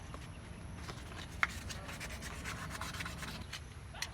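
Fine 1,200-grit sandpaper rubs steadily back and forth across a brake cylinder, a faint, even scratchy hiss with no talking.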